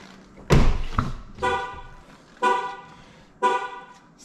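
A Cadillac CTS-V wagon sounds a keys-left-inside warning, four short electronic honk-like tones spaced about a second apart, close and distinct over a quiet background.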